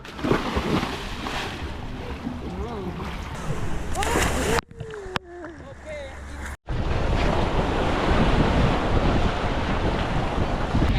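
Ocean waves and strong wind rush continuously at Krabi, Thailand, with buffeting noise on the microphone and voices talking over it; the sound drops out briefly midway.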